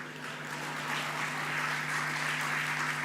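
Applause from a sermon audience, a steady broadband wash of many hands clapping that swells slightly and holds for about three seconds, with a faint low hum underneath and no talk.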